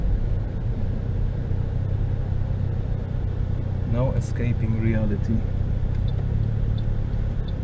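Car traffic on a Bangkok expressway, a steady low rumble of engines close by throughout, with a person speaking briefly over it midway.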